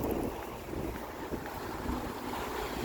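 Gusty wind buffets the microphone on a December waterfront walk in Halifax, Canada, a constant loud rumbling roar with no speech.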